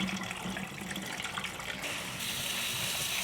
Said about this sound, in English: I'm gonna wash it like 2 more times.